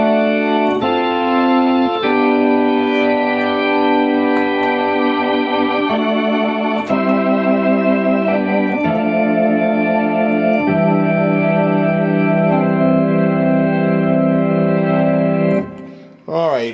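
A rich Hammond XF1 organ chord sequence plays steadily through a Leslie speaker, with a swirling, rotating-speaker warble over sustained notes, ending in a brief pause.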